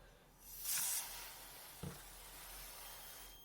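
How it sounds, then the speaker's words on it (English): Freeze spray blasted from an aerosol can onto a combined thermistor and thermal switch: one loud, close hiss lasting about half a second, then a quieter background with a faint click. "right now I'm spraying on the uh, combination of thermistor on the bottom and also thermal switch on the top."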